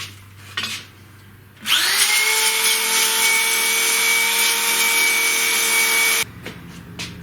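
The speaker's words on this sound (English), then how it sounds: "it's necessary to deburr all the holes from the underside now." A power tool whirs steadily at high pitch for several seconds, close and loud, deburring drilled holes in a CNC router part, with brief scraping and clicks before and after.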